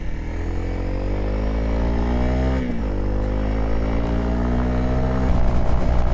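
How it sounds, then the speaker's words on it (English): A Honda CRF300L dirt bike on stock tyres labours uphill through snowy Romanian mountains, its single-cylinder engine droning close and loud with the pitch slowly rising, dipping briefly and then climbing again under load. "The Honda is struggling to get up these hills."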